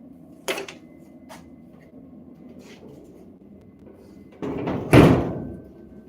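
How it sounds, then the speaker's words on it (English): Garage doors going up, a couple of faint knocks and a low hum, then a louder rattling surge and a sharp clunk near the end. "Yeah, the doors go up."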